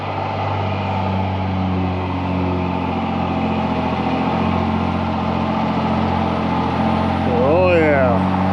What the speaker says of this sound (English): So let's go get Bubba Dump fired up, get it loaded, get over the hill, see what happens.